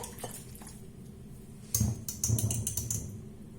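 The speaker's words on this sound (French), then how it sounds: "Maintenant, je vais rajouter mes oignons, mes poivrons et mes champignons. Je mélange tout." Onions, peppers and mushrooms stirred in a dish, a string of light clinks and scraping clatters from a utensil, sparse at first and then denser, close and fairly quiet.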